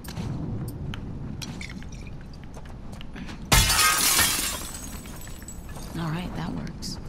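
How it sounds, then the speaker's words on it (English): A glass bottle shatters in The Last of Us Part II, one sudden bright crash followed by a trailing tinkle of shards, set against a steady low background with faint talk around it. "Break glass, break bottle,"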